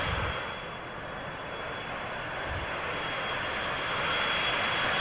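Steady, loud roar of Boeing 737-200 jet engines in the X-Plane 11 flight simulator, a continuous broadband rumble with a thin whine on top that swells slightly toward the end, with no voices.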